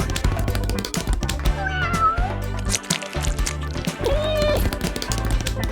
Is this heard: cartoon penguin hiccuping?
no